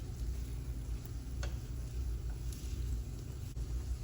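Diced onions and peppers fry in a pan with a steady low sizzle and hiss, a few faint clicks on top, close and continuous throughout.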